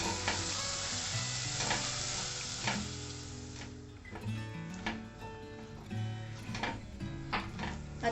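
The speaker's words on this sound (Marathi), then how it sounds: "आणि चांगलं बाजूने तेल सुटेपर्यंत ही फ्राय करून घेऊ आपण" Garam masala paste fries in oil for Kolhapuri chicken curry with a steady sizzle and occasional stirring scrapes, under prominent background music.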